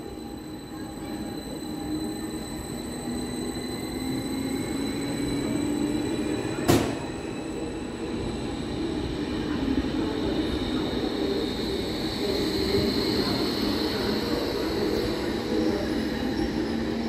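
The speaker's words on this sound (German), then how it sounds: "Einfahrt S3 nach Erkner. Vorsicht bei der Einfahrt." Berlin S-Bahn class 481 electric train pulling into a station, loud and close, a steady rolling rumble with high wheel squeal throughout and one sharp bang midway, with no talking.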